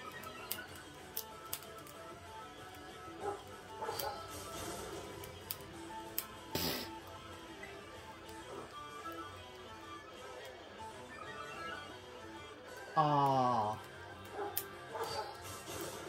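Dachsbun, a dog Pokémon in Pokemon Scarlet, gives a brief yipping cry late in the stretch, over quiet game music with scattered clicks and a sharp transient.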